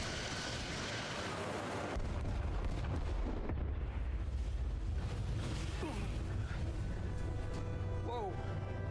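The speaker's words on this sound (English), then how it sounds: "Firing torpedoes." Torpedoes firing in the Star Trek: Resurgence video game, a loud rumbling barrage of booming blasts and whooshes with a sharp shift near two seconds, then sustained roaring rumble and scattered sci-fi tones.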